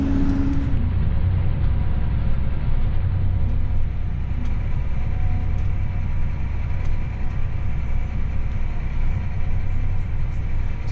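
An old tractor engine runs steadily nearby, a low, even rumbling drone that holds without change throughout.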